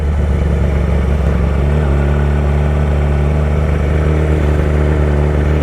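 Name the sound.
Yamaha R6 motorcycle riding through the pits at Road Atlanta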